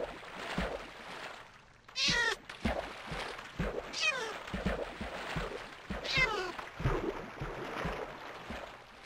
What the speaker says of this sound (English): Yeah, you're a kitty cat.